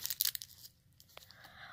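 Packaging is torn open on a toy surprise blind pack, a quick burst of crisp ripping and crinkling up close, then fading to quiet with a couple of small crackles.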